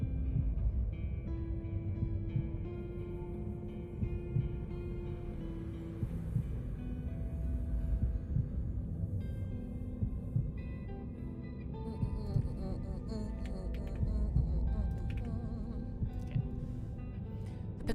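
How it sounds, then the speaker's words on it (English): Pounding heartbeat effect in the video game Reverse 1999, a low, steady throbbing pulse repeating under sustained ambient music and hum, without speech. "His heartbeat pounds in his ears"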